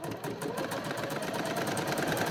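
A sewing machine stitching a 1 cm seam in tartan fabric for a doll skirt, a rapid, steady mechanical whir with even pulsing rhythm, close and unbroken.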